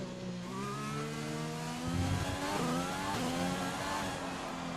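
F1 car engine in the racing game F1 2020, revving hard with rising and falling harmonic pitch through gear changes. Loud and steady for the whole stretch, heard alone with no talk.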